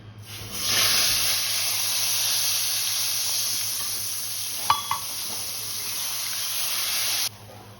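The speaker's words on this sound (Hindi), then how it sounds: "अब इसमें पानी ऐड करेंगे।" Water is poured into hot, ghee-roasted semolina for a sweet halwa, setting off a loud, sustained hiss and sizzle with steam that stays constant for several seconds before cutting off abruptly, with a brief utensil clink midway.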